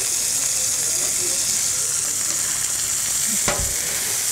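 Trout sizzling on an iron griddle, basted with smoked bacon fat: a steady, close hiss of frying fills the whole stretch, with a brief scrape or clatter near the end.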